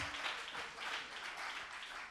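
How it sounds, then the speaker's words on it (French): Audience applause at a television news presenter competition, a steady wash of many hands clapping, faint and distant, with no voices over it. "Sous vos applaudissements, s'il vous plaît."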